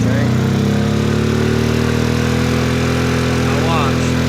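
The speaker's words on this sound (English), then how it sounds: "whenever I plug it back in, you'll hear it kind of bog down, but then get back right" A Honda EU2000i inverter generator powering a window air conditioner runs loudly and close, a steady buzzing engine drone that sags slightly in pitch as the load comes on, then holds.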